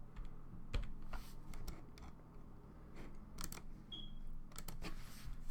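Typing on a computer keyboard while writing Rust code, a steady run of quick, soft key clicks in bursts, close and fairly quiet, with no talking.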